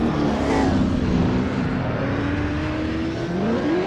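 V8 Supercars race at Bathurst in Assetto Corsa, one car passing another: a loud, continuous engine drone with a rising pitch as it accelerates, and steady road and wind noise beneath.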